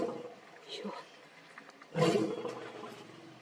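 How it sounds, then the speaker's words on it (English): A lion gives short, bark-like roars near a car: faint, gruff calls, the strongest coming in a sudden burst partway through, with people talking quietly. "I've never heard a lion bark like a dog before."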